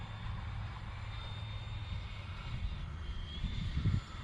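Freewing A6 Intruder RC jet passing slowly with flaps down, its ducted-fan whine a steady, moderately distant drone with a faint high tone, swelling slightly near the end.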